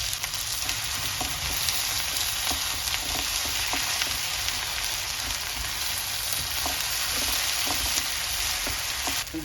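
Onions and garlic sautéing in a pan send up a loud, dense, continuous sizzle with a few faint knocks of stirring underneath, steady and close throughout.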